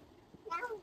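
A cat gives a single short meow near the end, faint and close, after a brief quiet stretch.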